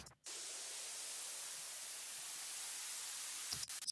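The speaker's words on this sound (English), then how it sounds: "And then we have the standard white noise rise as well." A steady wash of broadband white noise, a riser effect in an Ableton track, holds at a constant level for several seconds, then cuts off abruptly near the end, with no voices.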